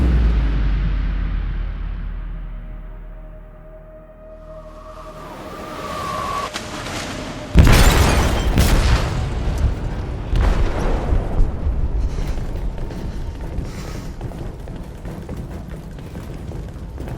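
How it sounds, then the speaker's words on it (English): In Detroit: Become Human, an explosive detonates in a ship's hold: a quiet, rising mechanical rumble breaks into one loud, close blast, followed by sustained crashing, groaning debris and rumble. "They detonated an explosive in the hold."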